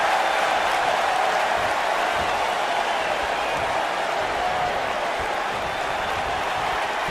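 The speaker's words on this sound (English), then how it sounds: "Listen to this crowd count the next one in." A large wrestling arena crowd in the video game WWE 2K19 roars and applauds during a Royal Rumble match, a dense, steady wash of cheering with no clear talk on top.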